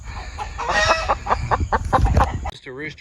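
An agitated rooster and frightened hens cluck and squawk close by in a dense, rhythmic run of calls that cuts off abruptly near the end.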